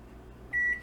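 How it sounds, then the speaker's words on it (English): A kitchen timer gives one short, clear electronic beep as it is set, loud and close against a quiet room where squash is boiling on the stove. "So I'm going to set my timer"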